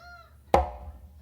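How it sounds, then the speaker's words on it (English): A single close slap on a conga, struck with the non-dominant hand, lands as one sharp, dry crack with a short ringing tail. It sounds close and fairly loud, with only quiet room tone before it. "what you're going to do is a close slap with your non-dominant hand on the conga."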